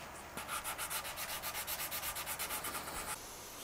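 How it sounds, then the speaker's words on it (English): Rhythmic back-and-forth sanding on a wooden guitar body, quick regular strokes, close and steady for a few seconds, then stopping. "I spent the past hour or so sanding on this body"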